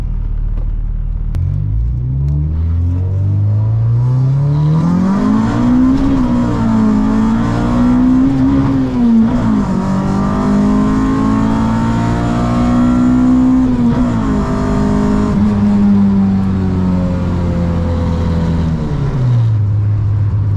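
A Honda EK hatchback with an H2B engine swap roars loudly through a hard pull, its engine note climbing steadily, dipping at gear shifts and rising again before falling away at the end, heard from inside the car without talk.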